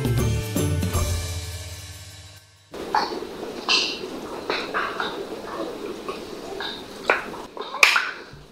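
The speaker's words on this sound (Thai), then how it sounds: "เสียงเปาะเปาะ ก็มาจากการงับก้ามของมันให้กระทบกันแล้วก็เกิดเสียงดังค่ะ" Snapping shrimp in a mangrove forest crack their claws, sharp isolated pops like finger snaps scattered irregularly at close range, following a tonal musical passage that cuts off abruptly.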